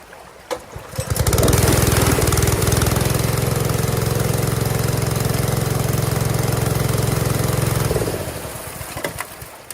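A small gasoline engine on a 3 inch gold dredge roars up to full throttle and runs steadily at high revs for several seconds, then cuts back down, with no talk over it.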